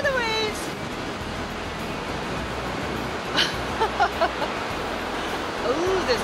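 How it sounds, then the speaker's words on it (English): Ocean waves crash against a rocky shore along a Newfoundland coastal walking trail at Bristol's Hope. Steady loud surf and wind fill the whole clip, with brief excited vocal bursts near the microphone. "Look at the waves!"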